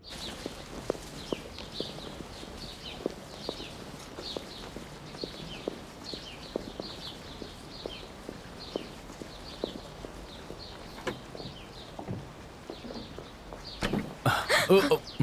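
Horse hooves clip-clop at a steady walking rhythm, fairly faint and continuous, with a louder rustling burst near the end.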